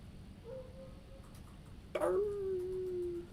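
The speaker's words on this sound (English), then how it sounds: "Someone just stepped on the dog, I think." A dog that has just been stepped on lets out a thin, drawn-out whine, then a sudden sharp yelp that trails into a long, high, wavering cry, fairly quiet over a low background hum.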